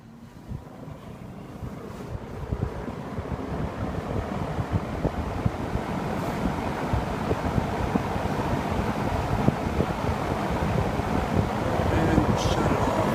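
A 1950s Sears Homart 20-inch electrically reversible box fan runs close up, giving a dense, steady whooshing roar with a rough, fluttering edge that grows slightly louder as it continues.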